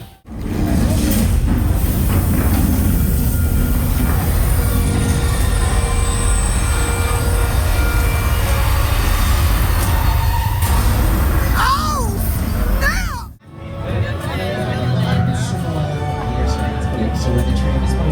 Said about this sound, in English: So when the tram is moving